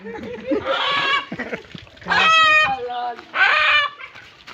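Chickens cluck and a rooster gives a couple of loud, harsh calls close by, with voices talking in between.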